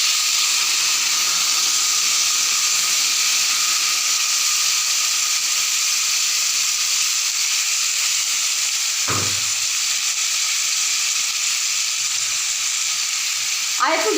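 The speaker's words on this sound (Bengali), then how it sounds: "তারপর আমি এই যে মশলা ধোয়া জলটা আমি দিয়ে দিচ্ছি" Steady, loud sizzling of spice-washing water hitting a hot pan of tangra fish curry with potatoes, a continuous frying hiss with a brief low thump partway through.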